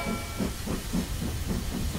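Cartoon steam train pulling away, a soft steady hiss with rhythmic chuffing puffs repeating about every quarter second, moderately quiet and without voices.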